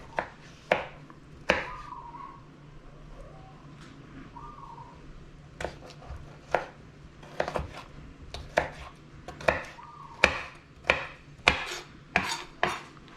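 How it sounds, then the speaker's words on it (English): A knife cuts jalapenos into thin rounds on a cutting board, sharp close chopping taps at an uneven rhythm that quickens toward the end, with faint bird calls in the quiet background. "Jalapenos, I'm just gonna do them into rounds."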